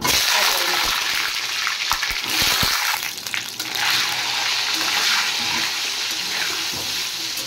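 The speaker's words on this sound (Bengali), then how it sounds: "এবার গরম জল দিয়ে আমি মাংসটা ভালো করে ধুয়ে নিই।" Hot water gushes and splashes steadily over mutton as it is washed in a kitchen, a loud, continuous rush with occasional sharper slaps of water.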